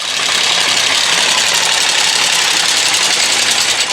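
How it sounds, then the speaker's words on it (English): A Delta midi wood lathe runs steadily in a workshop, giving a loud, continuous motor whir and hum with no pauses and no talking. "This is the lathe I use."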